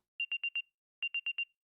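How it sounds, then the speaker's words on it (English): A digital watch alarm in the visual novel Root Double beeps in two quick bursts of four sharp, high electronic tones, clear and alone against silence. "Eventually a sharp sound echoed in the darkness, shaking Natsuhiko awake"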